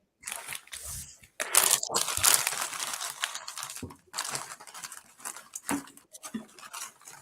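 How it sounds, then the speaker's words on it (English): Crunchy chips being munched up close, with bursts of loud crackling and crunching that come in clusters and run through most of the stretch, interrupted by brief pauses. "I'm munching on some chips here."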